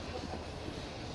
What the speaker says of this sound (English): you might get a good look at the train going through here